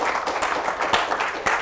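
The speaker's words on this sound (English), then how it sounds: "give Drew a round of applause as he presents his thesis." Audience applause for a thesis presentation, a steady wash of many hands clapping at close range for under two seconds with no talk over it.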